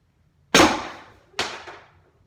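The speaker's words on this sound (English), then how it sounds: "It's scary to shoot this thing." A VKS airsoft rifle rated at 100 joules fires twice, each shot a sharp, loud crack with a short decaying tail, the two about a second apart against a quiet background.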